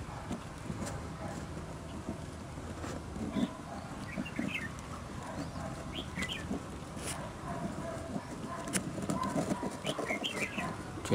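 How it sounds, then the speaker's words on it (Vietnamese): Red-whiskered bulbul birds call near a bird trap outdoors, with faint scattered chirps and short whistled notes over a steady bed of rustling ambient noise. "Rồi, chim đẹp đấy."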